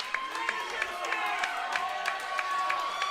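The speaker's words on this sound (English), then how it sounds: "the crowd is loving this" Crowd at an underground wrestling show cheering and roaring steadily, a broad wash of voices with rhythmic sharp claps or thuds punctuating it, while a commentator's voice runs over the top.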